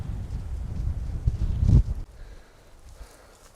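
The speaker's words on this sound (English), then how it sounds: "Awfully windy up here." Wind gusting over a hilltop hiking trail along the Manistee River, a loud rumbling buffet on the microphone that swells and then drops away to a quieter breeze.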